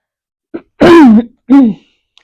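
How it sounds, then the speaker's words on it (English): Two deep, tight coughs, close and loud, preceded by a short throaty catch, with silence around them. "these are pretty deep, tight coughs."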